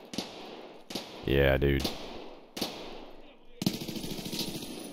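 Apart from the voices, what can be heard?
gunshots in the video game Escape From Tarkov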